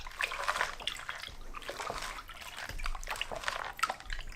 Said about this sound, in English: I'm just doing a little back and forth motion with the pan. Dump that water off.